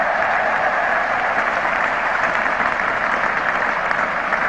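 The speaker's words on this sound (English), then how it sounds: "something at last for the English supporters to cheer and clap about" A cricket crowd at an England versus Australia test claps and cheers a boundary, a steady, loud roar of applause and voices that holds without a break throughout.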